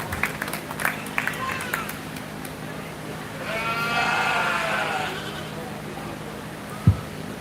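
Meat goats bleat in a 4-H/FFA show ring at a county fair, one drawn-out wavering bleat standing out amid arena murmur, scattered knocks and a sharp thud near the end.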